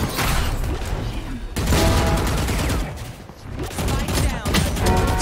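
Rapid automatic gunfire in Valorant on the Icebox map fires in sustained loud bursts while the player runs and jumps, with brief gaps between volleys.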